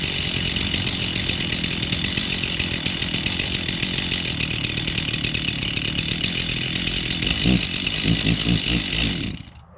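Small Johnson chainsaw running at high rpm, a loud, close, continuous buzzing whine with slight wavering, then cutting off at the very end.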